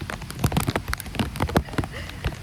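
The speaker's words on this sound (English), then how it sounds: "I'm tasting the rain now." Rain from Hurricane Milton pours down in a dense, close patter of drops striking nearby surfaces, with irregular louder splats standing out from the steady wash.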